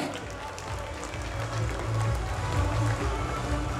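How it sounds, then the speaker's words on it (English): A darts audience at the Ladies World Trophy applauds, a dense and continuous wash of clapping from a large hall crowd that swells slightly midway and holds steady to the end. "Ladies and gentlemen, a round of applause."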